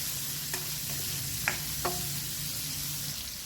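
Ginger and garlic sautéing in a pan, a steady sizzle with a few sharp utensil scrapes and taps as they are stirred, no voices.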